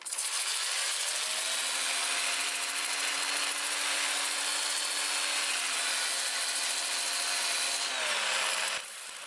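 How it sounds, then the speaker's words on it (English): Sandpaper pressed against a camellia stump spinning in reverse on a wood lathe at about 400 RPM, a steady close hissing rub with a low motor hum, sustained evenly before fading at the end. "Let's go ahead and sand this in reverse"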